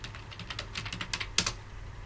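A computer keyboard clicks through a quick burst of keystrokes as a command is typed into a Windows command prompt, soft and close, with no voices.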